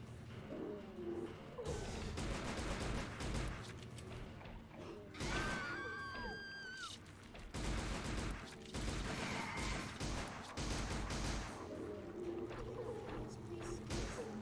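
Arcade light-gun shooting in the survival horror game Silent Hill Arcade, with rapid bursts of gunfire, clanking mechanisms and crashes, plus a sweeping pitched tone partway through, all under a mix of game sound and chatter.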